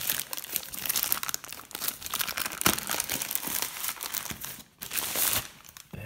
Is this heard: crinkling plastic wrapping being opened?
yes